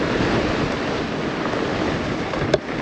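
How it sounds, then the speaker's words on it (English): Strong gusty wind blows outdoors and buffets the microphone in a continuous loud rumble, with one brief sharp knock near the end. "Man, it's windy today."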